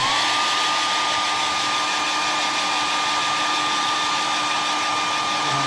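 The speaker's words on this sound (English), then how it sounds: "I'm going to take my hairdryer to speed up the process." A hair dryer blows with a loud, steady whirring roar from start to finish, close by and unchanging.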